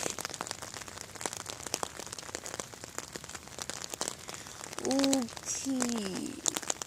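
Light rain falls at a bus stop as a faint, steady patter with scattered sharp drip ticks throughout, and a brief tonal voice-like sound rises near the end.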